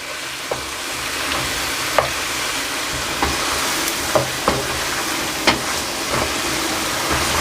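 Mutton karahi with red chilli frying in a wok, a steady loud sizzle with intermittent scraping taps of a spoon stirring against the metal.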